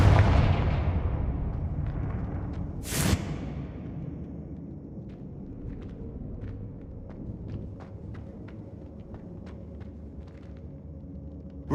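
A Confringo blasting spell goes off in Hogwarts Legacy as a single sharp burst near three seconds, followed by a low rumbling bed and scattered light ticks and footsteps-like taps; no speech.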